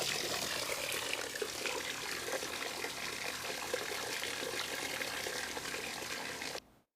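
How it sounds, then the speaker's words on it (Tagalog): Water pouring steadily into a bucket during a knife-making session, a loud continuous rushing splash close by that holds level for nearly seven seconds and then cuts off abruptly. "Ang naririnig mong umaagos na tubig ay ako lang na naglalagay ng tubig sa timba."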